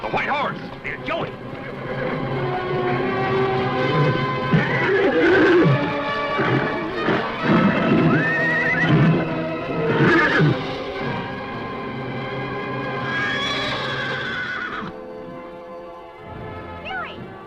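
A stallion whinnies loudly among excited shouting voices, with busy commotion throughout and a brief lull near the end.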